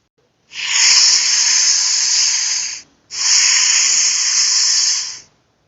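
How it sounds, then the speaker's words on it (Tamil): A snake inside a house gives two long, loud hisses, each lasting about two seconds, separated by a short pause, in an otherwise silent setting; cartoon sound. "அந்த நேரம் பார்த்து வீட்டுக்குள்ள ஒரு பாம்பு வந்துருச்சு"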